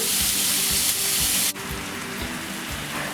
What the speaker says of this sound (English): you want to saute that with the garlic